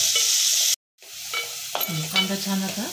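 Onion fries in a pan for a dried-shrimp javla chutney, a bright sizzle that cuts out briefly and then returns, followed by soft stirring and a low hum, close and with no voices.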